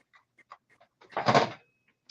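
Dogs indoors, soft scattered whimpers and small sounds, then a breathy burst of panting close by, with no talk.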